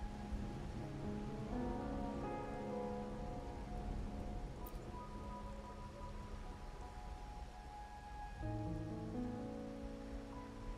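Steady rain falls in the Wuthering Waves video game, a constant soft hiss of drops on surfaces that carries through the whole stretch, faint and even, with tonal game music layered over it and no speech.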